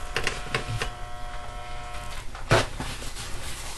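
An electric stove set to medium heat under a pot of pumpkin butter gives off a steady electrical buzz and hum, with a few louder knocks and clatters over it.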